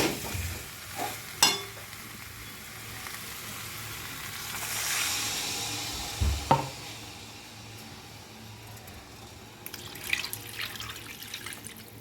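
Potatoes frying in spice masala in a pan, stirred with a spoon: soft sizzling under intermittent scraping and a few sharp clinks, close and moderately quiet.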